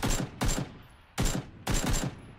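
Gunfire in PUBG comes as four sharp bursts of rapid automatic shots, each a few rounds long and separated by short pauses. The shots sound fairly close and loud, with no one talking over them.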